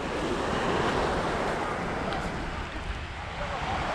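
Sea waves wash onto an empty beach in Sudak on a cool, breezy day, a steady broadband surf roar with wind rumbling against the microphone throughout.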